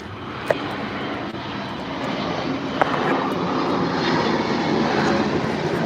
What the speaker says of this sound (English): All these planes.